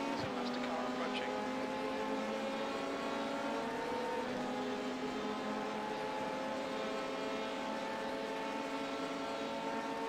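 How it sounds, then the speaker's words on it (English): Race car engine in the iRacing video game at Road Atlanta's 24-hour race, a loud sustained high-revving drone with shifting pitch as another faster car approaches, heard alone without talk. "Okay, Bill, there's a faster car approaching"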